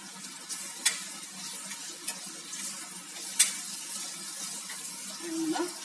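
Green chillies sizzle in a pan, a soft steady hiss broken by a few sharp crackles and pops. The frying is close and fairly quiet, with no speech.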